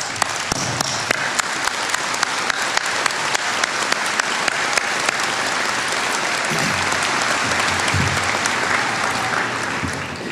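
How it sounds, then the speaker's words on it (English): A commencement audience breaks into sustained applause, a dense, steady wash of many hands clapping that fills the whole stretch with some faint voices mixed in. "Please give yourself a big round of applause."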